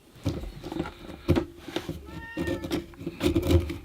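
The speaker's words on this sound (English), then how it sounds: "There's that cat." A cat meows several times close by while cement is being taken out of a mold, short separate cries mixed with soft handling noises.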